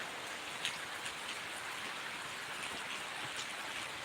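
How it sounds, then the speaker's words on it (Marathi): Steady rain falls over a village, a dense even hiss of drops pattering on surfaces throughout, with no voices. "इकडे पाऊस पडत आहे"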